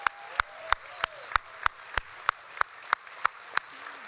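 Sparse applause for the Third Way staff at an evening gathering: a lone, evenly paced run of single claps, about three per second, moderately faint against a quiet room.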